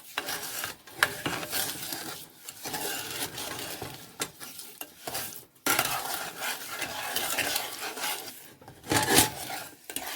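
A bamboo spatula stirs a sweet homemade rum sauce in a pan, making rhythmic scraping and swishing strokes over a soft bubbling simmer, interrupted by short pauses, close and moderately quiet.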